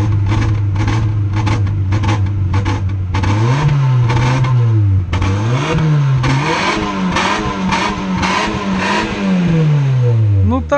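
A used Volvo car engine with a suspected fault revs in short bursts, first quick blips, then longer rises and falls of the throttle, loud and close with no talk over it.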